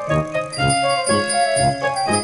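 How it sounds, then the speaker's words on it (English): A bicycle bell rings repeatedly in Peppa Pig World Adventures, a bright cartoonish ting-ting sounding in quick pairs over light background music. "Now you can go faster and even ring your bell."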